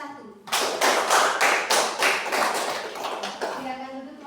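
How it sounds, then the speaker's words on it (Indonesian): A classroom of students claps together for a group that has just presented, a dense burst of hand claps starting half a second in and continuing steadily, fairly near, before tapering off. "mari kita tepuk tangan buat kelompok 1"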